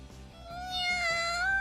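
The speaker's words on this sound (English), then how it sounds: "Oh, it's a cat." A cat in the visual novel game The Fruit of Grisaia gives one drawn-out, rising meow, clear and close over a soft low background of music.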